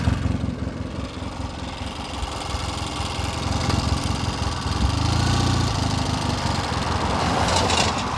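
A 1972 Triumph Tiger 650 motorcycle engine idles steadily at close range, a throaty, even mechanical rumble that rises slightly partway through and runs without any talking.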